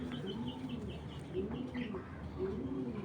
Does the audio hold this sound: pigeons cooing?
yes